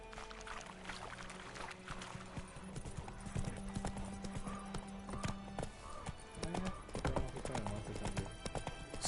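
Horse in a video game trotting with a steady, continuous clip-clop of hooves, with brief whinnies over a busy background of ambient game sound.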